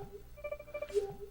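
A telephone in The Sims Bustin' Out video game gives a short electronic ring tone, a few clean beeping pulses, clear and alone.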